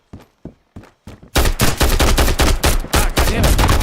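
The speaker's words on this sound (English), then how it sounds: "First shot, gun jammed. I heard the click and that was it." A gun in the video game Road to Vostok fires several sharp, spaced shots, then a denser burst of rapid loud reports follows, cracking close and hard with little pause between them.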